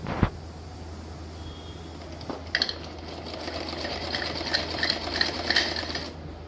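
A sewing machine stitches a pajama seam, starting with a clack, then running in steady bursts of rapid mechanical whirring and ticking, close and fairly quiet.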